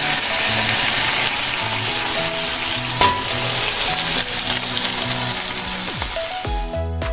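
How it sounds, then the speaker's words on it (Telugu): Loud, steady sizzling of green chilies, coriander and curry leaves frying in hot oil, with occasional stirring clatter and a sharp metallic tap; no voices. "కొంచెం కొత్తిమీర కరివేపాకు వేసి ఫ్రై చేసుకోవాలి"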